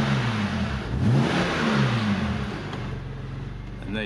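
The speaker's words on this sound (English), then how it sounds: "Just give it a little rev as well." A BMW 1 Series 125i SE convertible with a 3.0 petrol engine and manual gearbox is given a few quick blips of the throttle, the revs rising and falling close by before dropping back to a steady idle.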